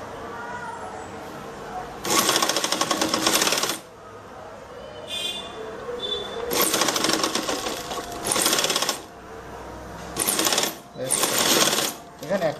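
Sewing machine stitching the neckline of a nighty, running in several loud bursts of rapid needle clatter separated by short pauses, close and clear.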